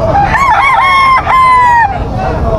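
A stag rooster at a pet market crows once, close and loud, a rising and wavering call of about two seconds over a busy market murmur.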